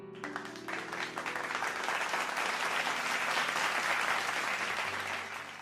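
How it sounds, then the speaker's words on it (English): A hall audience bursts into sustained applause, dense clapping that swells and holds steadily loud for several seconds before easing slightly at the end, with no talking over it. "They were applauding"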